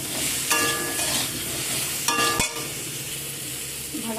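Mango pieces with turmeric and salt being stirred in a pan, a close, steady sizzle with a couple of louder scraping stirs and a sharp clack midway, no talk.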